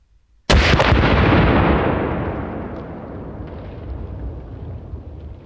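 A single .30-06 rifle shot fires a 150 grain Hornady bullet outdoors: one sudden loud crack after a brief quiet, then a long rolling echo that slowly fades over several seconds.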